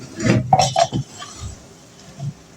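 A spoon scrapes and clinks against a pan while fried rice is mixed with vegetables, giving a few sharp metallic taps and scrapes early on, then quieter stirring.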